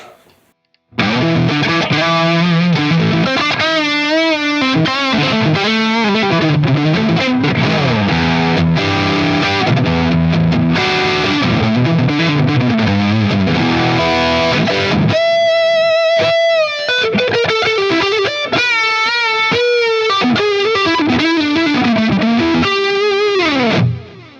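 Distorted Ed O'Brien signature Stratocaster on pickup position five plays a riff with heavy effects, loud and continuous, with chorus-like shimmer and sustained notes; no talking.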